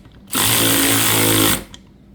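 A cordless 12-volt ratchet wrench fitted with a 13 socket runs in one steady, loud, buzzing burst of a little over a second, then stops, with a faint click after it.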